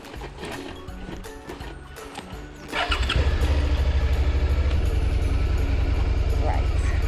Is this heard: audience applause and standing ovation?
no